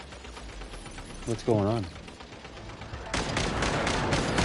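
Rapid gunfire from the video game Genshin Impact crackles in a dense, sustained burst during the last part, after a brief spoken line and a musical flourish.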